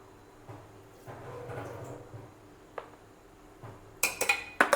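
Pots and utensils handled in a home kitchen while dal is put on to cook: soft scrapes and knocks, a lid or pan set down, then a quick run of sharp metallic clinks and clatters near the end.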